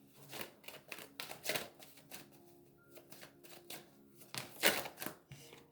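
A deck of cards cut and handled during a tarot-style reading, with quiet flicks, taps and riffles in uneven clusters, faint and close against a silent background.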